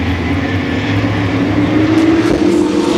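Modified race cars roar together as they accelerate at a green-flag restart in a modifieds feature race at EMRP, a loud, dense, continuous engine drone that swells slightly toward the end.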